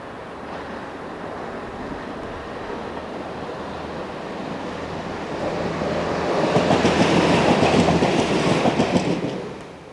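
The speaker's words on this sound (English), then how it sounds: "here 101-692 in unique Caledonian livery is bound for Barhead" A British Rail Class 101 diesel multiple unit in Caledonian livery on the Paisley Canal line draws closer, its rumble and clattering wheels swelling from a distant wash to a loud pass before quickly fading, with no voices.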